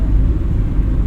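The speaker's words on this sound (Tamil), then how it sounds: "வண்டி எக்ஸலேட் யூஸ் பண்ணால் வண்டி போகும்." Car engine rumbling steadily from inside the cabin during a driving lesson, a low constant drone with no talk over it.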